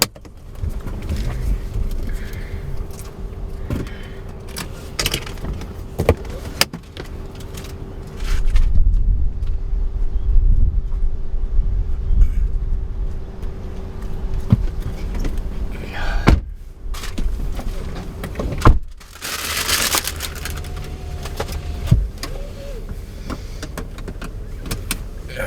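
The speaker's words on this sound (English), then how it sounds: "we are doing a little test practice maneuverability and driving in the parking lot" Car moving slowly through a parking lot during a maneuverability practice drive, a steady low engine and road rumble running throughout, with a few knocks and brief rattles over it and no talking.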